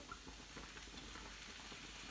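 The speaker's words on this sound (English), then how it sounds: "I'll just let that sizzle away for a bit" Vegetables sizzle softly in hot rapeseed oil in a pan on the hob, a faint, steady crackling hiss with no talking.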